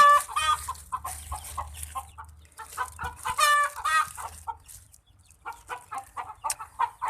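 Chickens cluck and call repeatedly nearby, with a rooster-like crow rising midway, over a faint low background hum.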